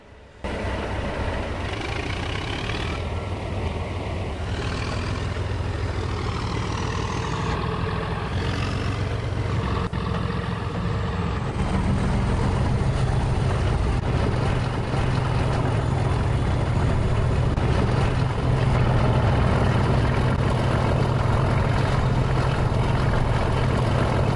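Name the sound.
Class 37 diesel locomotive engine throttling up, Trainz Simulator 3 video game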